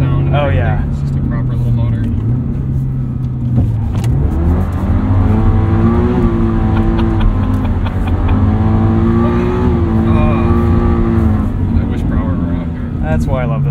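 A loud 2022 Subaru BRZ engine, active sound fuse unplugged, revs and drones continuously on a rally track, pitch rising and falling as it accelerates, with voices talking over it.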